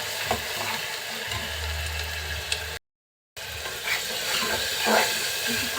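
Spice masala for duck curry sautés in hot oil with a continuous close sizzle and occasional stirring scrapes, broken by a brief cut to silence midway.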